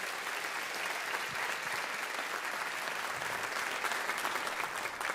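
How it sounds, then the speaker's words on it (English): Steady, dense applause from an assembled audience at a fall college convocation, honoring new faculty after orientation week; even and sustained throughout, with a faint murmur of the crowd beneath. "let's give them a round of applause for their work this week"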